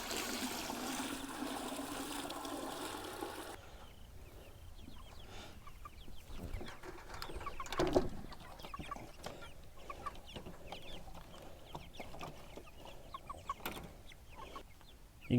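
Cornish cross meat chickens cluck softly and steadily around gravity-fed poultry cups, a low continuous flock murmur with a brief louder burst midway and no talk.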